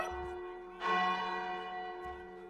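A bell rings out in Minecraft, a single clear metallic strike with a long, sustained ringing tail, followed by a second softer strike near the end; no one speaks over it.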